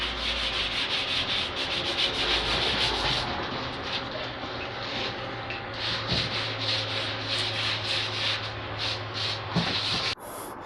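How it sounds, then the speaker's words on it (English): Wooden planks being sanded, worked down to 120 grit, give a steady close rasping rub that continues almost unbroken, with a brief change near the end. "So there's my 5 planks sanded down."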